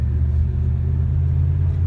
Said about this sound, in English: Got a real nice exhaust note,